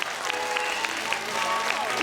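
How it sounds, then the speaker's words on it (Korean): A crowd claps at a kindergarten Jungle Book show, giving two seconds of dense, steady applause with a voice heard faintly beneath it. "큰 박수 부탁드릴게요"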